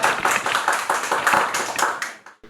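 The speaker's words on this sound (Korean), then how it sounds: "박수 부탁드립니다." Clapping from a lecture audience at a labour and politics talk, a short burst of several hands beating in a loose, uneven rhythm that fades out at the end.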